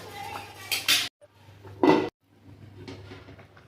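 Metal lid set over a pot of shukto, a bitter gourd and eggplant dish, during home cooking, giving a few short clanks and clatters close by against quiet kitchen background.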